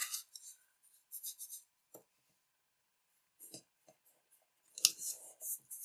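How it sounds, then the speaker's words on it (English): Origami paper is folded and creased for a dahlia flower, producing short crisp rustles and sharp paper crackles in scattered bursts separated by near silence. "Fold the next one."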